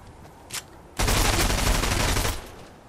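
Sustained burst of Fortnite gunfire, loud and rapid, roughly a second and a half long after a brief quieter pop, with no talking over it.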